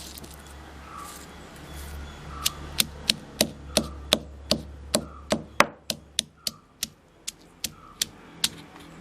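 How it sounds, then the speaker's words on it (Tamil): Curry leaves crushed for pazhayasoru, a fermented old-rice dish: a steady series of about twenty sharp, close pounding thuds at an even rhythm over faint background hum. "கருவேப்பிலையும் அதுலேயே வச்சு கொஞ்சம் சதிச்சுக்கலாம்."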